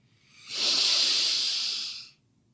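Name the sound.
deep breath in during meditation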